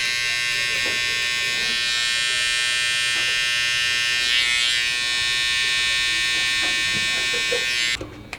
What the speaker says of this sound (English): And the last part of the fading will be again just the trimmer